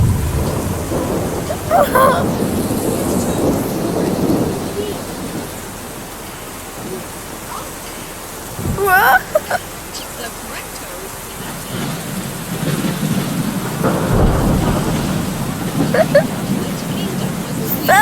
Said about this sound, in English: Storm is getting worse.